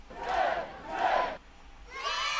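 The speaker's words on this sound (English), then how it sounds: "I didn't mean to do the children cheer" A children's cheering sound effect plays as two loud bursts of young voices shouting and cheering, followed by a third rising burst of excited cries.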